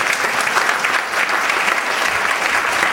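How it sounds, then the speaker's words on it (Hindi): An audience at a religious discourse claps in a dense, steady wave of applause, loud and unbroken throughout. "तुम्हारी तालियां बजाने से थाली निश्चित हुई है क्या?"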